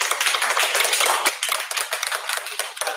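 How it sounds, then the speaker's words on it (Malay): Applause at a children's day celebration at a primary school, a dense steady patter of many hands clapping for about two seconds, then thinning into scattered claps toward the end. "Tepuk tangan sikit."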